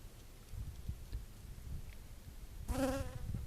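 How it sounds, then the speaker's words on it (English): A short buzzing insect passes close by for about a second near the end, rising out of a quiet outdoor background. "Maybe you still hear the bee."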